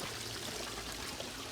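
Water flows steadily from a backyard pond waterfall fed by a skimmer pump, a soft continuous splashing and trickling wash heard alone at moderate distance.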